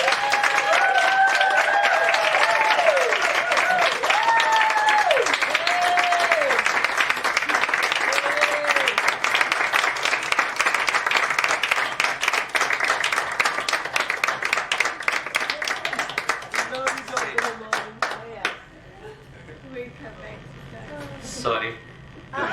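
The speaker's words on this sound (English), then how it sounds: "I want to give a big round of applause to Dr." A room full of people at a medical training session applauds loudly, dense clapping that gradually thins into scattered individual claps before fading, with voices talking over it throughout.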